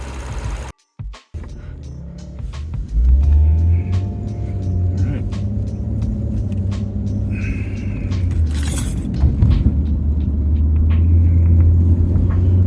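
Lexus RC 350 F-Sport fitted with a Takeda cold air intake, driving with a steady low engine rumble and road noise heard from inside the cabin, the engine note swelling as it pulls, with a few small rattles.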